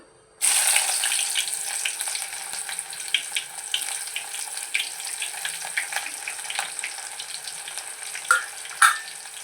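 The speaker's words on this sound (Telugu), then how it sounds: "జీలకర్ర ఆవాలు ఉల్లిపాయ బాగా ఎర్రగా వేగనివ్వాలి" Onions, cumin and mustard seeds hit hot oil for a tempering, bursting into a sudden loud hiss that settles into a steady crackling sizzle with scattered pops and a couple of sharper spits near the end.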